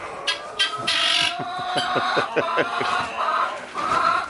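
Several guinea fowl call close by in rapid, repetitive harsh cackles, overlapping in a noisy chorus.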